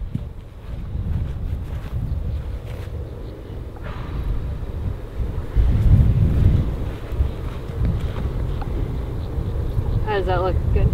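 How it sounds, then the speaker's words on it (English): Wind gusting across an open golf course at Tobacco Road, a loud, steady low rumble buffeting the microphone throughout, with people talking faintly underneath. "there's wind up there"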